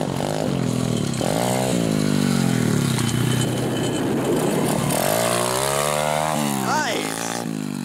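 An SSR pit bike engine revving and shifting pitch as it is ridden, loud and close, with brief voices partly under the engine noise.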